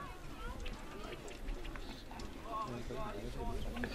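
Harness racing horses trotting on heavy ground at a nursery race, hoofbeats thudding in a soft, fairly close, continuous patter under general track noise.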